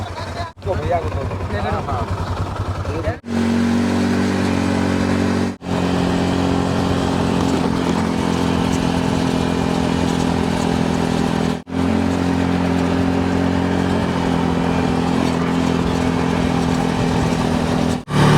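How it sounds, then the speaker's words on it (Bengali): A motorcycle engine drones steadily and loudly during a ride through the Thar desert near Jaisalmer, Rajasthan, with a few brief dropouts and a rough, continuous rumble and wind buffeting up close. "আমরা এবার এই বাইক রাইড করব।"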